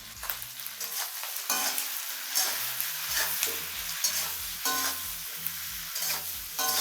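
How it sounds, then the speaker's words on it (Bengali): Chicken pieces with chili powder, turmeric and salt fry and sizzle in a pan over a high flame, with repeated stirring scrapes and clatters running throughout, close and fairly loud. "এটা যখন ভাজা ভাজা করবেন অবশ্যই হিটটা হাই ফ্লেমে রাখবেন"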